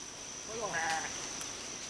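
A single sheep bleats faintly on a Nicaraguan coffee farm, one short wavering call over a steady high electronic whine and soft background hiss.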